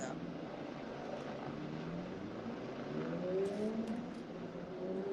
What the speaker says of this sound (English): Can you hear this fucking helicopter landing?